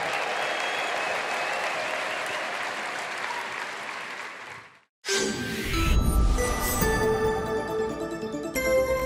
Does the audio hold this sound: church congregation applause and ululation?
yes